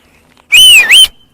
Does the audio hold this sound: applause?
no